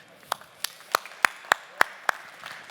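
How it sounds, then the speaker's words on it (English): A small panel-discussion audience gives a brief round of applause for the experts, with scattered individual claps, about eight distinct hand claps spread across a few seconds, moderately distant in a quiet room. "please join me in a big round of applause for our experts."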